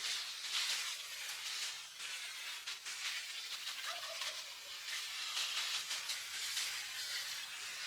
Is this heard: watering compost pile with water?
yes